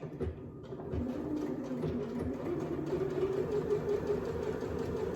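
A sewing machine hums steadily as it stitches, a continuous mechanical whir with a brief start at the beginning, close and moderately loud, no talking.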